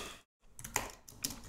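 Fingers tap a computer keyboard in a short burst of close, crisp clicks that follows a brief moment of silence, with no one speaking.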